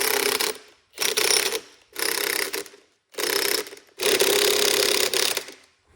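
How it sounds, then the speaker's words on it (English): A hand ratchet tightens lock nuts from a truck leveling kit in five close, loud bursts of rapid clicking, each separated by a short pause, with the last burst running longest. "take your lock nuts, come with the leveling kit, and you want to go ahead and tighten those guys down on there"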